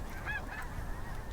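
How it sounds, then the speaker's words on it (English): A lone Canada goose honks out on the water at dusk, two or three faint, distant honks over a steady low background rumble. "this one lone Canada goose by itself out on the water"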